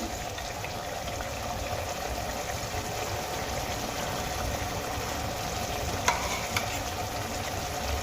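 Thick tamarind pulp is stirred into spice masala frying in a pan, giving a steady bubbling sizzle with soft scraping, and a couple of light clicks from the spoon toward the end.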